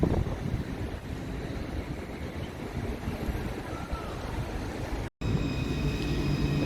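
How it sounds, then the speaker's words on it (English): A Dublin tram passes through the city streets, giving a steady rumble of rail wheels mixed with wind noise, followed by a brief cut and continued street ambience. "There's the Dublin trams."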